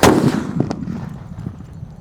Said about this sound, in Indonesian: menyalakan banyak sekali mercon petasan di lubang tanah